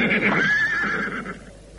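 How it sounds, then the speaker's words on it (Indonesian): A horse lets out a loud, close whinny, a high wavering call that rises and then fades out over about a second and a half, with a touch of hoof movement underneath. "Iya, kita ikat kuda-kuda kita di sini."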